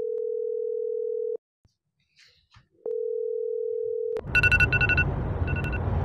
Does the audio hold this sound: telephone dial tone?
yes